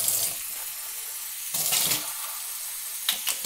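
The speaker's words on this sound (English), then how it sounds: "I'm going to start off by filling some water in this cup and rinsing it out." Cold water runs from a tap in steady broadband rushes, swelling in a few louder bursts as it splashes into a cup, with no voices.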